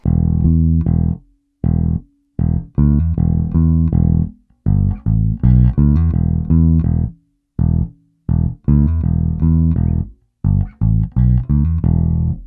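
Funk guitar riff played slowly and deliberately, clean staccato notes in short bursts separated by brief pauses, close and clear with no talking.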